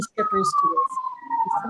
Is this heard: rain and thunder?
no